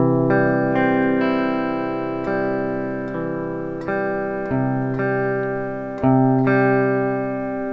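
Strummed guitar chords ring out one after another, each left to sustain and fade before the next, with a faintly sour, slightly out-of-tune shimmer.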